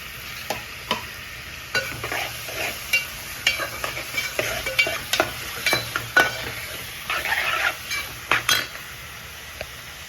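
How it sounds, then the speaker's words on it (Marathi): Onion and tomato fry in a pan during fish curry preparation, with scraping stirs and utensil clinks over a steady sizzle; no talking. "मी थोडंसं कांदा हे टमॅटो एकदाच टाकते"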